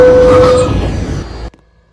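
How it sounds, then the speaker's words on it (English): Simulated N local subway train at Coney Island in the Transit City 3 game sounds a loud tonal horn, then its rumble fades and cuts off abruptly. "Bound N local train."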